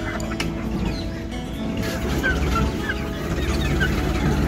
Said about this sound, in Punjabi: ਮੁਰਗਾ ਵੀ ਛੱਡਤਾ ਆਪਾਂ ਨੇ, ਨਾਲੇ 3 ਮੁਰਗੀਆਂ ਹੋ ਗਈਆਂ